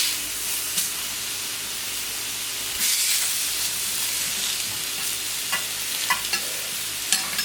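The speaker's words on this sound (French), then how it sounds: "Nous allons retourner une première fois la côte de bœuf." A marinated beef rib steak with a spice crust, just flipped in a pan at around 200 degrees, sizzles loudly and steadily with a few faint utensil knocks.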